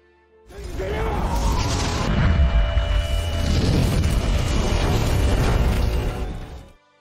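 A fire explosion in a Korean film, set off by a door being forced open: a loud, sustained blast of crashing and roaring noise bursts in suddenly, rumbling for several seconds before cutting off.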